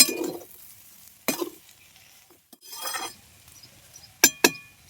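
Potato bhujia being stirred and mixed in a pan, giving a few short bursts of scraping and sizzle with sharp metallic clinks of a utensil against the pan near the end, mostly without talk.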